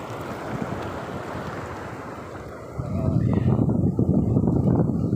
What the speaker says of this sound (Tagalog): Uy, laki ng alon.